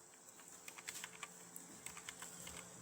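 Someone types a search query into Google on a computer keyboard: quiet, quick, uneven key clicks in short bursts, close by, with no talking.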